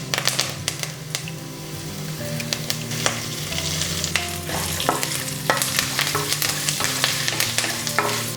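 Chana dal, urad dal, asafoetida, cashews, dried chillies and curry leaves fry in hot oil with a steady close sizzle, punctuated by repeated scrapes and clicks of a spoon stirring the pan.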